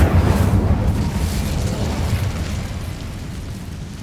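An Incendio fire spell cast in Hogwarts Legacy bursts as a heavy, booming whoosh of flame, loudest at the start and then trailing into a sustained deep roar that slowly fades.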